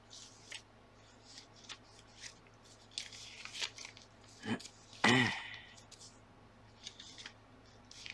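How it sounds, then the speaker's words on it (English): Paper being handled and shuffled during glue-book crafting, with soft rustles and small crinkles, a scissor-like snip, and one louder sharp crunch of paper close up. "I suppose this shuffling through paper could be listed with ASMR keywords"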